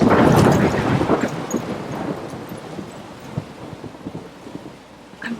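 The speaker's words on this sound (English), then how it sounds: "I'm trapped in a storm?" Thunder rolls through a stormy scene in the video game Life is Strange, a loud rumbling crack up front that fades into steady rain and gusting wind, with no voices.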